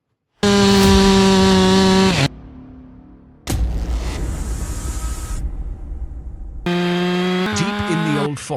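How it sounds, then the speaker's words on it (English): A chainsaw cuts through a tree trunk in a forest: loud revving bursts with a steady engine whine, a quieter idle between cuts, then a second harsh cutting roar. "the roar of a chainsaw cuts through the silence"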